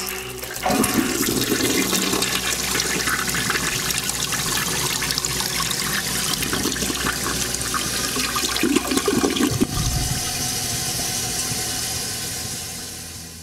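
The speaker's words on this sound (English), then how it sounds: "flushing toilets" An early 1900s toilet in a French mansion flushes in one long rushing burst of water. The gush stays loud and close for about ten seconds, then eases into a quieter trickle as the tank refills.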